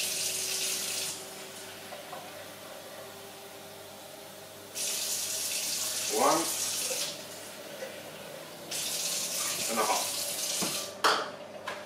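Water runs steadily from a tap into a pot for making tonic water syrup, with a couple of splashy pours and clinks of the pot in between; no one speaks.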